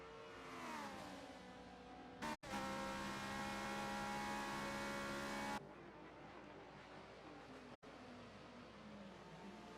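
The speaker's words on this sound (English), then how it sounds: "Under braking, you can see the Ferrari struggling in the rear end. Now, Ludicrous in that Ford is also struggling" Engines of a Ford GT and a Ferrari race car in a multiclass racing video game at Virginia International Raceway, loud continuous revving with rising and falling pitch and abrupt cuts, no talk.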